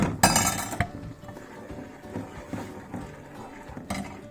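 Curd is stirred in a pan on a gas stove, the utensil knocking and clinking against the metal in irregular taps and scrapes, with a sharper clatter near the start.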